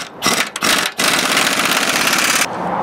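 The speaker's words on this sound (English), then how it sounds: "Okay, so now we're checking the torque on these." A power tool runs loud and close while bolts are torqued on a SuperSteer bell crank on a Chevrolet Workhorse chassis, a dense, whirring drone with a couple of brief stutters at the start, then holding steady.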